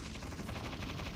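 Rapid gunfire from the video game Resident Evil 4 VR, a dense burst of close, loud shots running continuously through the short moment.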